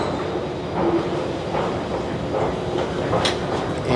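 A Maya Train rolls into the platform on the Cancun to Palenque route, a steady rumble with rhythmic clatter and a faint high squeal near the end, continuous and fairly loud.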